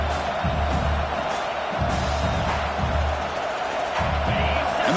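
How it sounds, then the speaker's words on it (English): A football stadium crowd roars throughout a college game, a dense steady wash of cheering with low rumbling swells, loud and sustained. "The crowd coming to life here"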